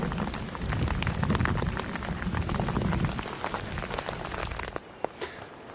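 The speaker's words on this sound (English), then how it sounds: "More hail and rain." Steady rain mixed with hail patters heavily on surfaces during a mountain thunderstorm on the Colorado Trail, then thins abruptly to scattered drips.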